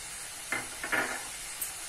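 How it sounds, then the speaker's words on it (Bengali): Prawns sauté with onion in a pan, giving a soft, steady sizzling hiss with a few light scraping clinks of stirring, faint and without voices. "এবার চিংড়ি মাছটা পেঁয়াজের সঙ্গে একটু সটে করে নেব।"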